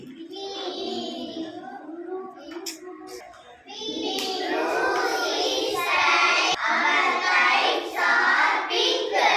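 Children in an English class clapping, brief bursts of claps mixed with voices of a teacher and kids speaking and chanting throughout.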